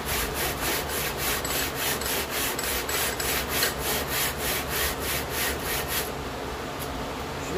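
Hand-shaping a bevel on a piece of wood: a steady rhythmic rasping, like sanding or filing, with back-and-forth strokes about every half second, close and continuous, then stopping near the end.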